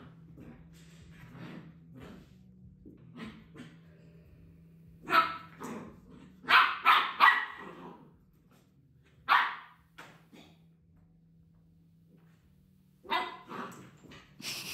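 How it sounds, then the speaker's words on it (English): A dog barks during play in scattered sharp bursts, a few single barks and a tight cluster of three, fairly close, against a quiet background. "Warning, there's barking in this part."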